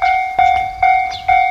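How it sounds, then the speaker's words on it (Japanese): Train passing by with a steady, loud tonal whine at close range, recurring in four even pulses that sound like repeated clacks or horn-like bursts. "またレトロな感じの電車が通るのかな"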